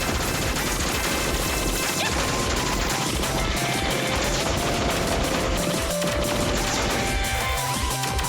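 Dense, continuous barrage of blasts and rapid gunfire-like crackle as bombs are dropped on a boss spraying bullets in a vertical shoot-'em-up arcade game, loud and unbroken throughout with layered explosions and music.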